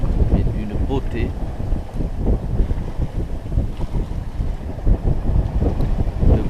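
Sailboat sailing close-hauled in 11 knots of wind on a flat sea off Corsica, with loud gusty wind buffeting the microphone and water rushing along the hull, a voice speaking briefly near the start.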